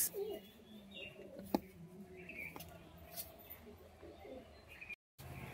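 Lal Shira and Giribaz pigeons give faint, soft coos and small chirps against a quiet background.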